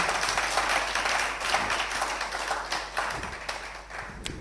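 Applause rises through a church service, a dense, steady patter of many hands that holds evenly and fairly loud throughout without a break.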